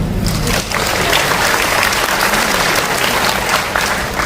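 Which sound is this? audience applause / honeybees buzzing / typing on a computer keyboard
audience applause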